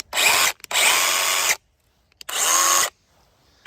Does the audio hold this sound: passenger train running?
no